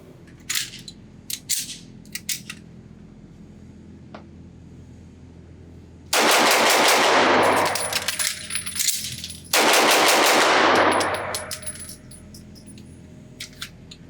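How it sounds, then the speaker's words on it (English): Sig Sauer P229 Equinox pistol at an outdoor range, with metallic clicks and clatter of a magazine change followed by two loud, dense bursts of rapid shots, each lasting about three seconds, with brief ticking handling noises in between. "So let's just see how fast I can shoot this and how fast I can change the magazine."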